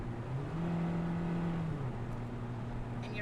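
A Ford truck engine drones at a steady, strained pitch as it labours uphill near Silver Plume, Colorado, at about 9,118 feet, heard from inside the cab, fairly quiet and continuous.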